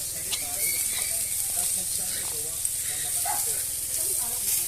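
Food sizzling and frying in a hot pan at an outdoor cooking spot in Laguna, a steady crackling hiss that runs throughout under occasional nearby voices.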